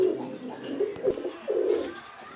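Bangladeshi fancy pigeons coo in a loft, a close, fairly loud run of low rolling coos in a few swelling phrases, with no talk.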